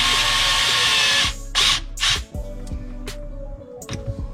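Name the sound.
power tool tightening dishwasher air gap hose clamp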